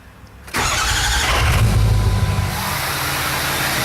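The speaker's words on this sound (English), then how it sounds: "let me just start it up for you one more time" A work truck's engine cranks and fires at about half a second, then settles into a loud, steady rumble through an aftermarket exhaust, with a brief rev swelling mid-clip before easing back to idle.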